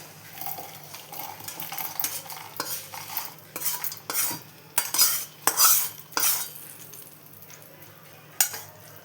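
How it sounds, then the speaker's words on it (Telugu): A spoon scrapes and clinks against a metal pan repeatedly, in quick bursts, as spice tempering is tipped and knocked into a grinder jar, with faint sizzling underneath. "ఇప్పుడు పోపునంతా జార్లోకి వేసేసుకోవాలి"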